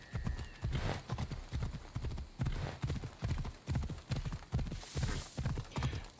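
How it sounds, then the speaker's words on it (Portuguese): Horse hooves clip-clop in Assassin's Creed Odyssey, a steady, even trot of close, loud hoofbeats repeating about three times a second with no pauses. "Vamos chamar aqui o nosso cavalo."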